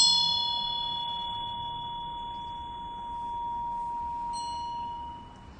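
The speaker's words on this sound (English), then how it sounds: "Only the bell can ring." A single struck meditation bell rings out with a clear, pure sustained tone that decays slowly over several seconds, with a soft second strike near the end.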